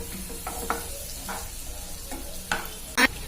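Onions being stirred in a frying pan, with a gentle continuous sizzle broken by several scraping strokes of a utensil and a sharper clack near the end.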